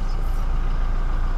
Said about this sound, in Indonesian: Kedengaran banget kan mesinnya kan